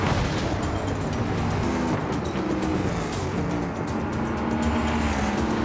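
Racing cars in the video game BeamNG Drive roar continuously around a track, a dense, loud engine drone with tire noise that holds steady for several seconds without speech.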